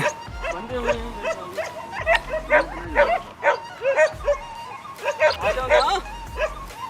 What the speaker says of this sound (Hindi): उसको अभी आवाज़ आ रही है कुत्तों की ना